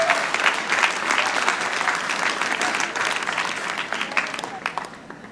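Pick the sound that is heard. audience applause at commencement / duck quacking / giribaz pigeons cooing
audience applause at commencement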